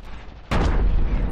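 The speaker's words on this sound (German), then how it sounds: "Da ist die Kanone." A cannon fires in the strategy game Iron Harvest: a sudden loud, deep boom erupts halfway through and rumbles on over faint earlier battle noise.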